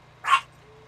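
A single short bark from an indoor dog, sharp and close, fading quickly into a quiet room hum.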